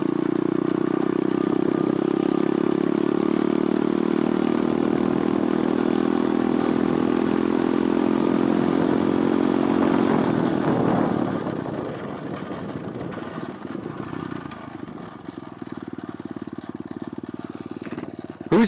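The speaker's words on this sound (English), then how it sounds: "Whose pit bike is this?" Pit bikes and dirt bikes ride on sandy ground, one engine droning loud and steady up close for about eleven seconds before its tone shifts and drops to a lower, rougher idle.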